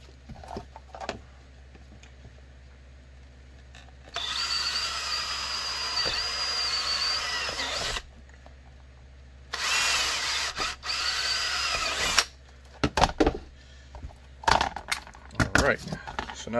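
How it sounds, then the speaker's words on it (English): A power drill bores retention holes in a handgun holster for a CZ SP-01 with an Olight PL2 light, whining in two sustained close bursts separated by quieter handling, followed by sharp clicks and knocks of tools on the bench. "it doesn't move when you're drilling the retention holes"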